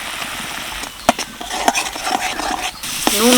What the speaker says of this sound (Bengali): হলুদ লঙ্কা গুঁড়ো দিয়ে একটুখানি কষিয়ে নিলাম দু মিনিট মতো